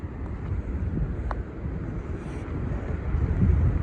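Wind blows across a microphone on the Appalachian Trail, a low, steady buffeting rumble that swells slightly toward the end, with no talking.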